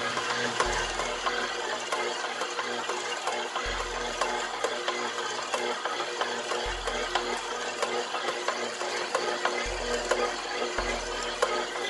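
A stand mixer working heavy concha dough at speed 2, a continuous mechanical whir with a rhythmic low thumping as the dough slaps around the bowl, steady and close, no voices.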